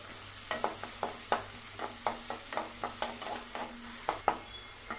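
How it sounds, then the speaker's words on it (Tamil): Onions sautéing in oil over a high flame for an egg drop curry, heard as a close steady sizzle broken by a regular series of sharp spoon-against-pan stirring knocks. "வெங்காயத்தை எண்ணெயில் நல்லா வதக்கி விடுங்க."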